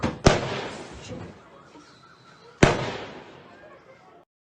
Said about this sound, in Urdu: یہ گولیاں مار رہے ہیں. میں اس کی آڈیو آپ پلے کرتا ہوں، آپ سنیے گا.